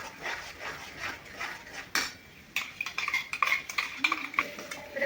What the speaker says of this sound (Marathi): आता आपल्याला हलवून हलवून सगळा मसाला चांगला भाजून घ्यायचा